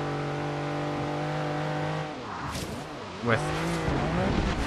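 A Lamborghini Countach LP5000 QV is driven in first person through rain in Forza Horizon 3. The engine drones steadily and loud, then dips and surges with brief tyre squeals, while a voice murmurs faintly.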